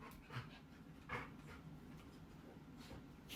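Two dogs, Luna and Poe, pant and huff as they play together on a couch, a soft continuous breathy rasp with a few louder puffs, faint and close in a quiet room.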